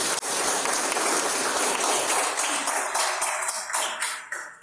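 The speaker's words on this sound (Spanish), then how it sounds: "Que nos fuerte aplauso, Señor, por ello." Church congregation applauding, a dense, steady wash of clapping that fills the whole span at a fairly loud level and thins slightly toward the end.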